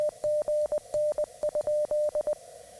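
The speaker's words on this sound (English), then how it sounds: "Again in Morse code is just the letters A, G, and N" Clean Morse code tones on CW amateur radio spell out AGN, a run of long and short beeps ending in the question-mark pattern, one continuous sequence with no voices.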